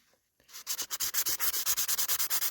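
A boulder opal is rubbed by hand against sandpaper in rapid back-and-forth strokes, close to the microphone. The sound is a steady run of about twenty loud, even scratchy rasps after a short silence.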